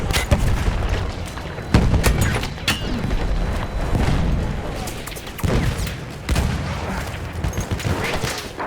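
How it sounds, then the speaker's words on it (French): Battlefield 1 trench combat on the Nivelle map, with heavy booms and grenade blasts bursting loudly among rolling gunfire and shouted voices, several strong impacts standing out through about nine seconds of battle noise. "Lancez une grenade!"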